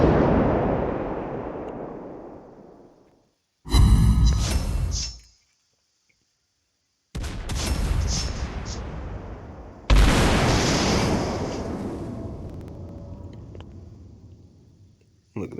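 Naval guns fire in World of Warships Blitz, a series of heavy booming salvos separated by pauses and silence, each with a sharp crack and a long rumbling decay, loud and close, with no speech over them.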